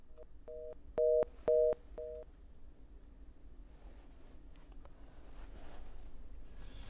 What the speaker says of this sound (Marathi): फादर फ्रान्सिस दिब्रिटो यांचा फोन कट झालाय